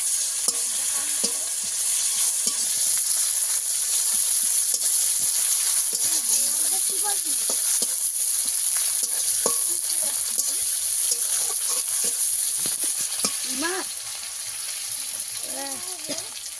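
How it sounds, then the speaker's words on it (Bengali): Chopped onions fry with chillies and five-spice (panch phoron) in hot oil, giving a steady, loud sizzle throughout with scattered stirring scrapes and brief bits of talk over the frying. "আমি পেঁয়াজ কেটে নিয়েছি, দিয়ে দেবো। ভালো করে লাল লাল করে ভেজে নেব।"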